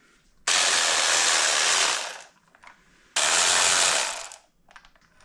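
Ratchet wrench removing the starter bolts from a VW EuroVan VR6 24v engine: two long, steady bursts of rapid ratcheting clicks, close and loud, separated by a brief pause with light handling noise.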